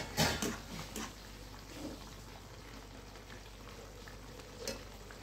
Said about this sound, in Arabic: هحط بقى الباذنجان عشان يشرب